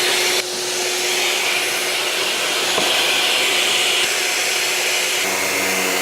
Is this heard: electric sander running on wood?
yes